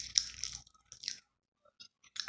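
Burger King french fries are chewed close to the mic in short crunchy, moist bursts, a few quick bites followed by pauses of near silence.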